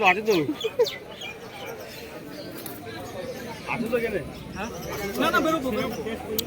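Pigeons at a busy village market: scattered bird calls mix with loud crowd chatter and nearby voices talking throughout.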